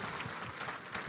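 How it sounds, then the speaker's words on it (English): Audience applause in a university lecture hall during a public lecture by Kenya's deputy president at Murang'a University of Technology, a steady dense wash of clapping throughout with no voices over it. "Clap for her."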